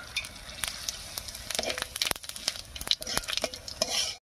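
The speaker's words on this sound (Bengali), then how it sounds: "বড়া ভাজার এই তেলের মধ্যেই ফোড়ন দেবো। আর ফোড়ন দেবো গোটা গরম মশলা, গোটা জিরা আর 2টো শুকনো লঙ্কা দিয়ে।" Whole garam masala, cumin seeds and two dried red chillies temper in hot oil left over from frying chhana (paneer) balls, giving a busy close sizzle with scattered sharp pops and crackles and a few stirring scrapes, no voices.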